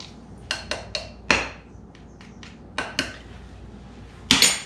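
Several sharp metallic clinks and scrapes of a utensil against a dish as food is scraped off in a home kitchen, each hit clear and close, spaced unevenly with a louder final pair, and no talking.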